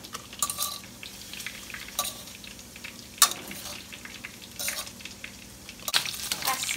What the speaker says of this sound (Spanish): Se está dorando muy bien la grasita que le quité